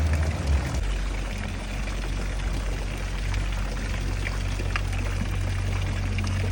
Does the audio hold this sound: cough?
no